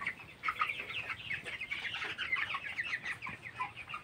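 Broiler chickens on a poultry farm, a dense flock clucking and chirping continuously at low level, many birds overlapping with no voices.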